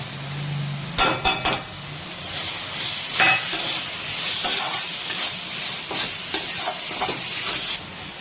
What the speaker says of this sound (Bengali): আদা রসুন বাটা দিয়ে এটা প্রায় ভাজা হলো 5 মিনিট। আর এইবারে দিয়ে দিচ্ছে যে গুঁড়ো